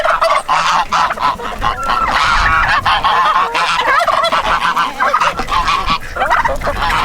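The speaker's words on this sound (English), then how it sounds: "I'm trying to talk over these noisy geese." Loud, constant honking from a flock of geese, many overlapping calls with no break, close by.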